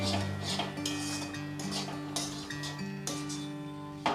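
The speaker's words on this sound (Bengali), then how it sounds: "এবার আমি হলুদ লবণটা ভালো করে কুলের সাথে মিশিয়ে নেব" A utensil stirs pickled jujube fruit with turmeric and salt in a metal pot. The scraping and clinking come steadily and close, with no talking.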